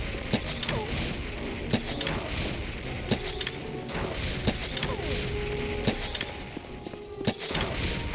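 A crossbow in the video game Morrowind fires ebony viper bolts, sharp repeated impact thuds about every second or so over steady game background noise and clatter.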